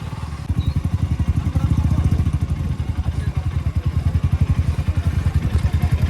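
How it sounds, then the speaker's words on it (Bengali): A motorcycle idles at close range with a steady, pulsing thump while being parked near the Nabadwip ghat on a ride to Mayapur, with faint clatter around it and no clear talk. "তো চলো বাইকটা পার্ক করে নিই"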